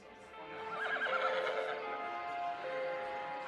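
Horses neighing from a movie playing on a TV, a whinny with faint hoof clip-clop, soft and slightly distant-sounding, with no talk over it.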